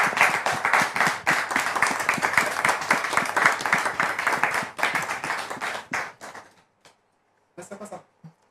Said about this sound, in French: Public, recevons maintenant, avec votre permission, le frère Rodrigue en question, sous vos applaudissements